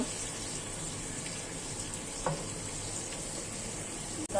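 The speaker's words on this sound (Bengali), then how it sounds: "একটা সরিষার তেল দিয়ে দিচ্ছি মাছটা ভাজার জন্য" Fish fries in mustard oil in a home kitchen, giving a steady, fairly quiet sizzling hiss throughout, with a couple of faint clinks near the end.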